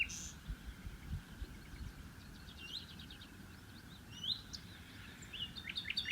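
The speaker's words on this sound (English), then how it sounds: "common redstart, which you can hear now together with the nightingale" Common redstart and nightingale sing together at dawn near tall trees, their bright chirps and whistled phrases scattered across the clip over a steady low rumble of background noise, moderately distant and fairly faint.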